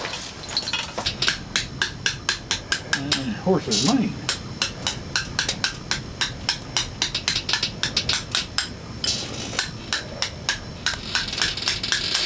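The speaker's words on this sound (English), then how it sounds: "That's my old hammer I started with" Repeated sharp strikes of a hammer on a chisel carving rock, a steady rhythmic tapping close by with occasional pauses, while someone talks briefly over it.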